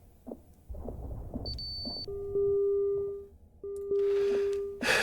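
An electronic alarm in the space game Ostranauts sounds as steady, sustained tones that hold for about a second, cut off, then repeat. Softer clicks and beeps come before it and a burst of hiss follows near the end.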